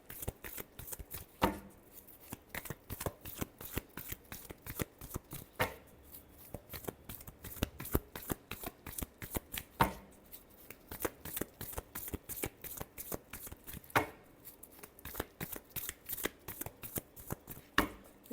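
Tarot cards being shuffled by hand in a long run of quick riffling bursts, crisp and close, repeating with short pauses between rounds and no voices.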